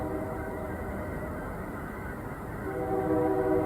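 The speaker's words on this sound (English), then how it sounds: "There's the train." A train rolls past with a steady, loud rumble, and a sustained horn blast swells in near the end.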